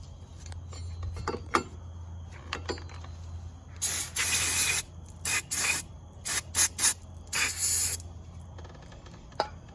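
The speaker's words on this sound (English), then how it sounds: "Get yourself a can of brake clean." Brake cleaner sprays from an aerosol can onto the front brakes of a Can-Am Renegade 500 ATV in several hissing bursts of varying length, with light metallic clinks in between.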